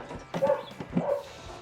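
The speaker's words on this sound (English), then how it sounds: "Ignore the dogs." Several dogs bark in short yips and woofs at moderate distance, in a workshop where a Wheel Horse racing lawn mower is being built, with a couple of brief bursts and quieter gaps between.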